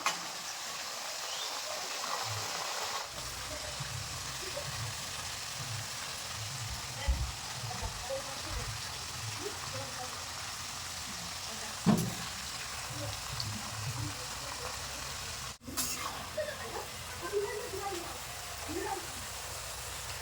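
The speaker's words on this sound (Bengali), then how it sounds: "এই চিপসগুলো কিন্তু উল্টে পাল্টে লাল লাল করে ভেজে নেব" Steady broadband sizzle of potato chip slices frying in oil runs throughout, with low thumps and faint scraping underneath.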